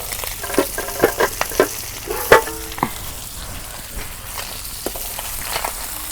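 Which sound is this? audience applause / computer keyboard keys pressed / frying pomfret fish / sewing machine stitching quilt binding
frying pomfret fish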